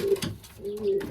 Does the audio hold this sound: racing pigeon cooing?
yes